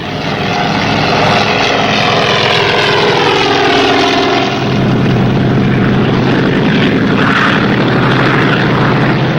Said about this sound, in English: The seaplane took off in a great hurry, leaving the two divers behind